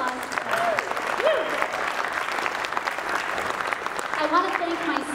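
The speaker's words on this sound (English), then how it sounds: "let's give them a round of applause" An audience claps steadily throughout, with a few brief whoops and a voice or two rising over the dense, even applause.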